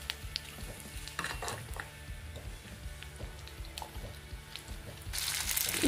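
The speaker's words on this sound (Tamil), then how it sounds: "இப்போ எண்ணெய் ஹீட் ஆனதோட நான் வந்து வெங்காயம் சேர்த்துக்கிறேன்" Onions tossed into hot oil for chicken manchurian give a continuous crackling sizzle, close and fairly quiet, with light pan clinks and a louder burst of frying near the end.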